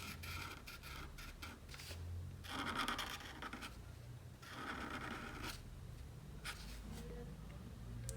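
A pen colors in a drawing of Venom's teeth and a spider on paper, giving a steady, quiet scratching and rubbing with brief pauses and bursts of quicker back-and-forth strokes, close up and without talk.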